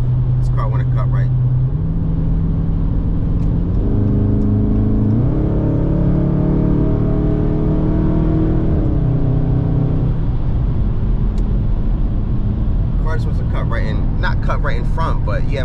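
Dodge Charger Scat Pack cruising on the road, its engine note droning steadily and stepping up in pitch as it works through the gears, with a whooshing rush of passing traffic and cabin noise around it.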